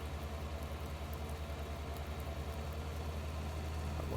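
A tractor engine in Farming Simulator 19 runs at a steady idle-like drone during a mowing and silage session, a constant low rumble with no speech.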